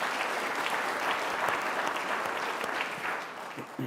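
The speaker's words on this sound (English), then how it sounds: "give Chuck Todd another round of applause." A conference crowd at the 2024 Mackinac Policy Conference applauds steadily throughout, dense clapping that tapers slightly near the end.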